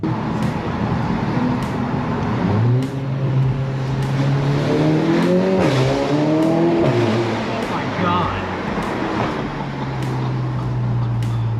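An MK7 GTI with a stage 1 ECU tune on a high torque file and 93 pump gas revs and accelerates, engine note rising and dropping through gear changes, loud and close, with a voice talking over it.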